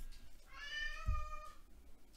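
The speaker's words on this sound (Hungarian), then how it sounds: "Közben a cica is megérkezett." A house cat lets out one clear, drawn-out meow close by in a quiet room, with faint background noise around it.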